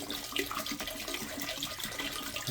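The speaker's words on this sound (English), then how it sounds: "we're going to add more RV antifreeze to the toilet bowl" RV antifreeze poured into a toilet bowl, a steady soft splashing and trickling of liquid heard close by and at low level for a couple of seconds.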